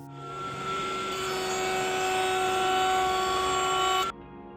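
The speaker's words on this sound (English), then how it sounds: "to get the last bit of material off, I use a top bearing flush trim bit" A wood router fitted with a top-bearing flush trim bit cuts wood along a template, its loud steady high-pitched whine holding for about four seconds before the cut ends and the motor note drops.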